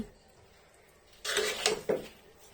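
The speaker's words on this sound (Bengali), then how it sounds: "তো 2 কাপ কেওড়া জল দিয়ে আবারও একটু সুন্দরভাবে নেড়ে চেড়ে আমি মিশিয়ে নিচ্ছি" Sweet zarda rice stirred with kewra water in a pot: quiet room tone, then a short run of scraping and clinking of a spoon against the pot, close and moderate, with no talking.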